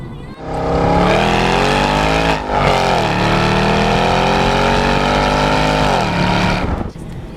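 The 6.2-liter LS3 V8 of a 2015 Chevrolet SS revs hard up close, loud and throaty, its pitch climbing, dipping briefly, then holding a strained roar before cutting off.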